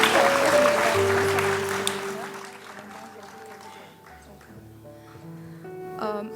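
Thunderous applause for the top-ranked students at an awards ceremony, loud and dense for about two seconds, then thinning as sustained tonal sounds and a voice carry on over it.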